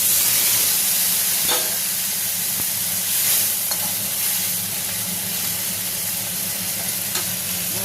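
Water added to a hot pan of fried paneer and vegetables, producing a steady, loud hissing sizzle that holds evenly throughout with a few faint utensil taps, close by.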